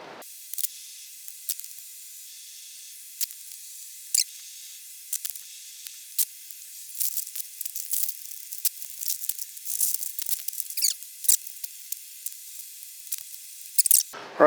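A rattle-can spray of clear lacquer goes onto an Epiphone guitar body in short hissing bursts, sparse at first and then quicker and denser, close to the microphone.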